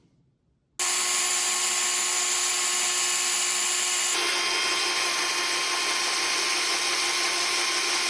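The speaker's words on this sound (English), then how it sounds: "So I am gonna go ahead" A power drill bores into a part of a DIY proton pack kit, starting abruptly after a short quiet moment and running as a loud, steady whine for about seven seconds, its pitch shifting slightly midway as it cuts.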